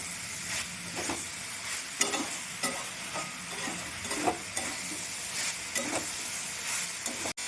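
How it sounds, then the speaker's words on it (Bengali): Boiled jackfruit and potato stir-fried with spices in a pan, a soft continuous sizzle punctuated by regular scraping and clacking strokes of a spatula, fairly close and moderately quiet. "আমি মশলার সাথে এঁচোড় আলুটা আর একটু ভালো করে কষিয়ে"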